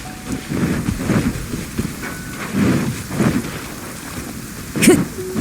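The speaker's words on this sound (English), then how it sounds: "Taking a stroll in the middle of a downpour certainly rouses the spirit." Steady rain pours down in a Genshin Impact storm, a constant wash of falling water with a low rumble of thunder beneath, heard alongside soft character movement.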